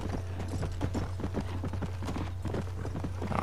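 A horse's hooves clip-clop in a fast, steady galloping rhythm in the video game Red Dead Redemption, continuous over a low background hum.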